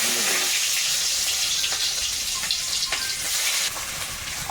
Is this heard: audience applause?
no